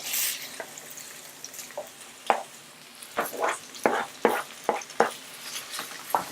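A spoon stirs leek and other vegetables in a pot, giving a series of irregular scraping knocks that grow busier toward the end over a faint background hiss.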